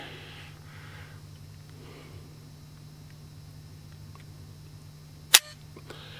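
An unloaded pistol dry-fired double action gives one sharp, close hammer click against a quiet room hum, with a fainter tick just after.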